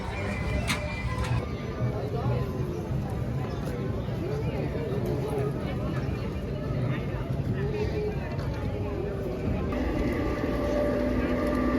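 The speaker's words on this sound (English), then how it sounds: "I'm taking a ride here on the train" Ride aboard a train, a steady rumbling drone of the carriage with rattling and hum throughout, people talking over it.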